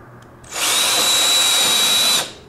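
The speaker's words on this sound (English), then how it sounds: "you drill 3 holes" A power drill drilling holes in wood for a garden box whirs loudly and steadily for about two seconds, starting and stopping abruptly with a high whine over a broad rushing noise.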